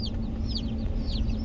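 Hatchery chicks cheep in a brooder, with repeated high, quick peeps rising and falling over a steady low hum, close and moderately loud with no talking.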